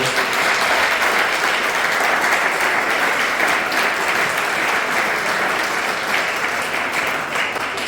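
A church congregation applauds during a Spanish-language sermon, giving dense, sustained clapping that fills the room loudly and evenly throughout.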